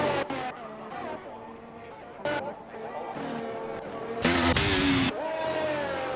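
Red Bull Formula 1 car in a racing video game crossing the finish line at the Qatar circuit, a steady engine drone with a brief loud roaring burst near the end, while a commentator talks over it.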